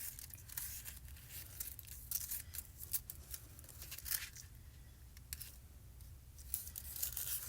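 Scissors snip through a piece of cardstock, short crisp cuts coming in irregular bursts with brief pauses and faint crinkling, close and moderately quiet.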